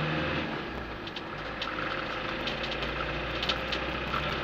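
A Land Rover Defender 90 300tdi diesel engine drones steadily while driving on a cold day, heard from inside the cab with faint clicks and rattles over the constant rumble.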